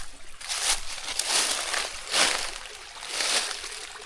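River water near a mountain community in St Thomas, a rushing, sloshing flow that swells and fades in repeated surges, moderately close with no voices over it.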